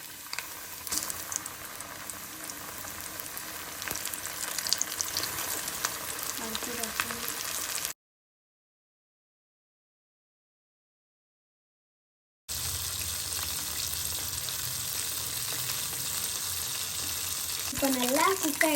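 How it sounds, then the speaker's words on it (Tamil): Chicken coated and frying in oil gives a steady, close crackling sizzle with bubbling, broken by a stretch of silence, then returns louder with a brief voice near the end. "நம்ம ஆயிலில் ஃப்ரை பண்ணிக்கலாம்"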